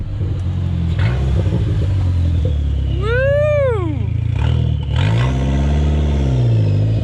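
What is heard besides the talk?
Dodge SRT4 car engine revving loudly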